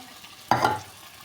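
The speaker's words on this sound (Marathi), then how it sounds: "आता यामध्ये भिजलेला साबुदाणा टाकूया" Soaked sabudana (tapioca pearls) drop into a hot pan for khichdi and hit it with a sudden bright sizzle, which flares for a moment and then fades into a quieter fry.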